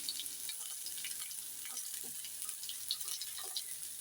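Onions sautéing lightly in a pan until just golden, a soft, steady sizzle with faint scattered crackles and occasional clinks throughout, no voices.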